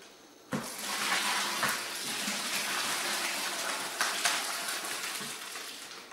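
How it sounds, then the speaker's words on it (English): Turkey brine pours steadily over the bird in a roasting setting, a continuous close watery splash and gush lasting several seconds with a few louder surges. "We're going to pour this on top of our turkey."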